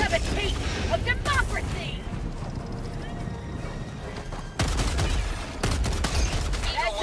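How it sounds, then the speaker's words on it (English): Airstrike explosions in Helldivers 2, loud broadband blasts that hit at intervals over continuous game noise and chatter, with a sudden heavy burst near the end. "Requesting air support. I'm throwing airstrikes."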